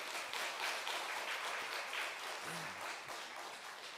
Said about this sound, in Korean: 박수 한번 보내드려요